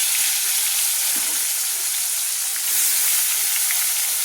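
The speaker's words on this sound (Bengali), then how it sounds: "প্রথমে আমি রুই মাছের চাকাগুলো ভেজে নিচ্ছি" Rui fish steaks frying in oil in a pan over a low gas flame, a continuous close sizzle and hiss with small crackles throughout.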